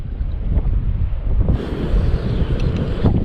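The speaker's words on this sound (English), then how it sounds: "hear the wind again." Heavy wind buffets a bass fishing boat on open water in late winter, a loud, rough, continuous roar of gusts across the microphone that swells stronger halfway through.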